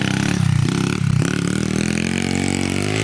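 A big-bore Honda CT90 Trail motorcycle engine pulls hard under acceleration, a loud, close, buzzing drone with rising pitch that stays steady throughout.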